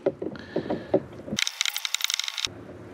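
A hot tub jet being unscrewed by hand, rapid ratcheting plastic clicks and scraping taps, close and fairly faint, with one brief harsher burst of clicking in the middle.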